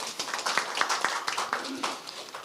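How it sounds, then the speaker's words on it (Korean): Audience at a Korean political party rally clapping, a quick scatter of sharp hand claps of moderate loudness with speech mixed in underneath. "박수 한번 보내주십시오."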